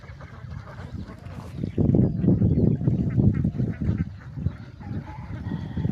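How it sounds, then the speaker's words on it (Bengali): Ducks on a duck farm of about three hundred birds keep up a dense, steady chorus of quacks and honks for several seconds, near and fairly loud. "এখানে কতটি হাঁস আছে?"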